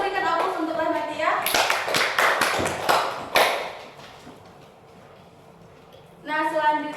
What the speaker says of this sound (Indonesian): Silakan berikan aplaus untuk Rahmatia.